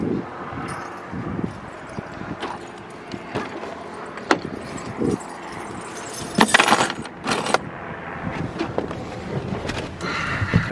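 Keys jangle and clink as they are picked up for a property purchase, in several brief metallic bursts over steady outdoor background noise, fairly close.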